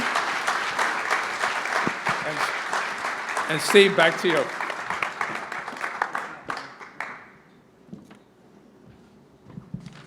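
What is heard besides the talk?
round of applause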